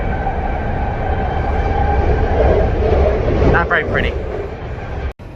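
A commuter train bound for San Francisco rumbles along the rails, a steady close rolling drone with a brief squeal of wheels midway, while a voice speaks briefly over it.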